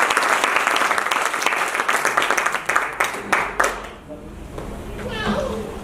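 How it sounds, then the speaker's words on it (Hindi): Audience at a business seminar claps loudly and continuously, a dense wash of applause that tapers off near the end. "जोरदार ताली इनके लिए, सतंदर सर के लिए।"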